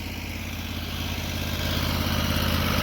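A Predator 670 engine runs steadily on a pressure washer, a loud, close, even mechanical drone with a rapid exhaust pulse that builds slightly in volume, with no talking.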